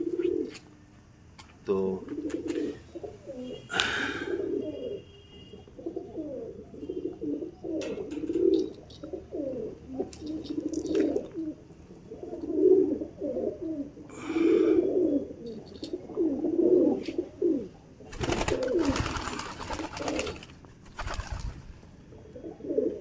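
Pigeons cooing close by, soft throaty burbling calls repeating through the scene alongside brief chirps and a flutter of wings, while someone talks over them.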